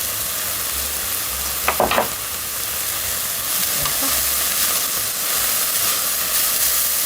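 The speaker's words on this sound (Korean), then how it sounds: "아주 금방 볶아져요. 여전히 강불로 하는 거예요." Vegetables with minced garlic stir-fry over high heat in a pan, giving a loud, continuous sizzle and hiss throughout, with a short clatter of utensil against the pan early on.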